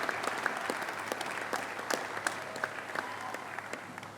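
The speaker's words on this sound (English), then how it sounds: "So let's give them a big round of applause." Crowd applause for a university band and cheerleaders at a UIC announcement event, a steady wash of clapping with a few sharper individual claps and whoops standing out near the front.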